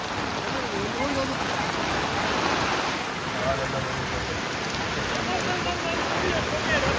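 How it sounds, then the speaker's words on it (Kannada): Heavy rain pours steadily at a fish market, a dense continuous hiss of water drumming on surfaces that stays loud and even throughout with no voices over it. "ಫುಲ್ ಜೋರ್ ಮಳೆ, ಕ್ರೇಜಿ ಮಳೆ"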